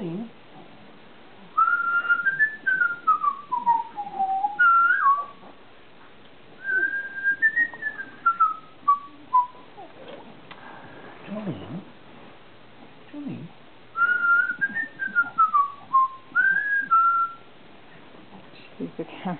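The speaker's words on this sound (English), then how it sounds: "Do you like being whistled to?" A person whistles a repeated falling, warbling tune to a cat in a quiet room, clear and close, in three phrases separated by pauses with faint rustling between them.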